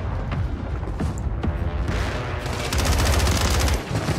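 Rapid gunfire in Call of Duty: Warzone, a sustained burst of automatic shots with booming low impacts, growing denser and louder midway before easing off.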